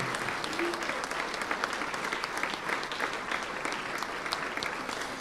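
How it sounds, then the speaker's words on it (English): Sustained applause from an audience at a music awards results session, honouring the solo performers, steady and dense throughout with a faint voice briefly audible early on. "Can we have a round of applause for everybody under the spotlights of the cameras who performed a solo?"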